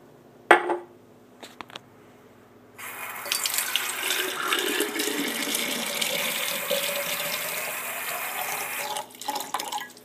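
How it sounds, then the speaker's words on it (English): Tap water runs steadily into a mason jar for roughly six seconds, a broad close rushing stream after a couple of brief knocks, with no talking. "we'll fill up the mason jar with water"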